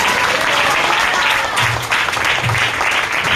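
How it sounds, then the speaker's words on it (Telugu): A church congregation claps with both hands in loud, dense, continuous applause that fills the space, with a few faint voices underneath. "రెండు చేతులతో చప్పట్లు కొట్టండి."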